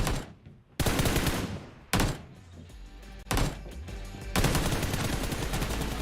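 Bursts of gunfire in the PUBG Mobile battle game come in loud, sharp volleys separated by short gaps, then build into a sustained rapid-fire stretch at close range.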